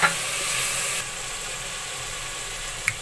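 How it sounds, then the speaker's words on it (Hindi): Masala with half a spoon of turmeric sizzles steadily in hot oil, a dense continuous hiss that eases slightly partway through, with a soft clink near the start and end. "मसाला मेरा भून के रेडी होने वाला है"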